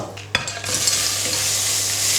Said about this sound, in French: Dans une casserole chaude avec de l'huile d'olive, je vais faire colorer l'ensemble des carcasses du homard.